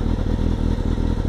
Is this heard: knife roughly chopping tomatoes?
no